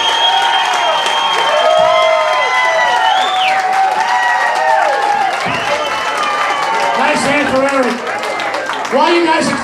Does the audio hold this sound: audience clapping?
yes